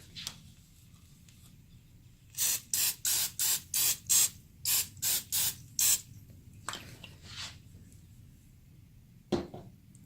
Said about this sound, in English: Let's spray the other side.